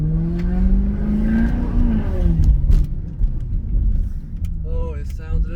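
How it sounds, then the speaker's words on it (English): A Maserati GranTurismo S revs loudly with a rising, then falling engine note before settling into a rough idle, and a person talks briefly near the end. "Oh, the sound of this car is awesome."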